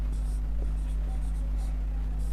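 Pen writing by hand during a Class 10 maths lesson on fractions, a steady faint scratching that runs the whole time over a constant low electrical hum, with no voices.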